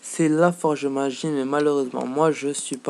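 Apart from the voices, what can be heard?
None of the usual background noises is heard.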